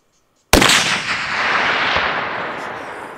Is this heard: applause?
no